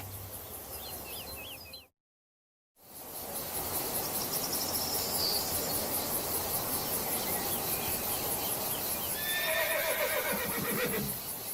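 A horse on a ranch gives a clear whinny near the end, over a steady outdoor background of insects and crickets, with a short silent gap early on.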